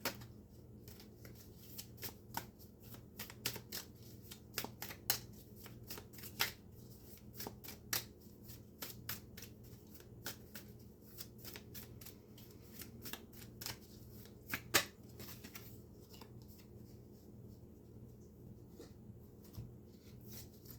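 Tarot cards are shuffled by hand close up, giving repeated soft riffling snaps and slaps in an irregular rhythm over a quiet room hum.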